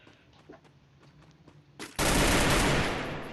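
SCAR rifle fire in the Free Fire video game, a loud, sustained burst of gunfire that bursts in abruptly after quiet game sounds with faint clicks.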